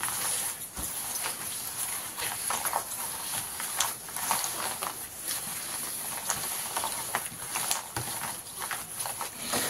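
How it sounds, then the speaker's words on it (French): Several dogs' claws tap and scrabble across a hard floor indoors, an irregular patter of quick clicks and trampling that runs steadily under a hissy background. "vous entendez les griffes sur le sol, c'est normal. Ce sont mes chiens"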